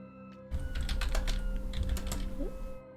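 A quick burst of typing on a computer keyboard, soft clattering keystrokes heard close up for about two seconds, with no talking.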